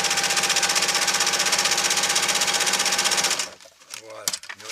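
An electric sewing machine stitches the reinforcement onto a kite's spar sleeve, a loud, fast, steady buzzing that runs for about three seconds and then stops abruptly, followed by faint voices and handling noises.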